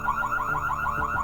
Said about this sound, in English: Now this thing has an alarm.